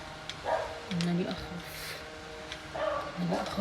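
A dog barks a few times somewhere outdoors on a cloudy day, the short yips and woofs moderately faint behind someone talking nearby.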